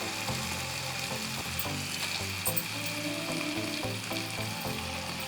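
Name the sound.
quail sizzling as it is added to fried tomato masala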